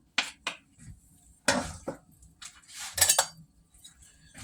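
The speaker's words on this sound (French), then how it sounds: "Là, maintenant, on va continuer de mélanger notre salade." Homemade fresh salad is mixed in a bowl with utensils, giving irregular clinks, scrapes and knocks in short bursts separated by quiet gaps, close and fairly soft.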